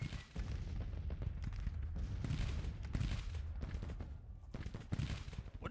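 Artillery fire in the Grand Tactician: The Civil War video game, set in the American Civil War: a steady, distant battle rumble of overlapping booms and cannon blasts rolls on without letup.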